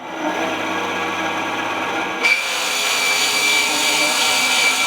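A power tool cuts a line through hybrid knife-handle material with a steady, whining buzz. The pitch shifts partway through into a brighter, harsher grind that holds loud and constant to the end.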